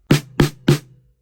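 Three evenly spaced, loud snare hits from a 1970s Black Beauty snare drum tuned far down, each a fat low crack with a short buzzing ring that fades quickly.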